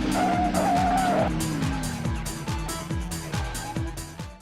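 Racing cars in a Test Drive street racing game skid and screech with repeated tire squeals over steady engine roar, a rhythmic series of sliding bursts close and loud throughout.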